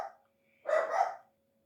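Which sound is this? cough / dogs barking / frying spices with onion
dogs barking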